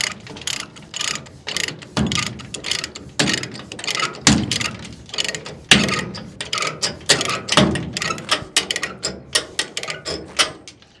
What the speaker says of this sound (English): ratchet up like this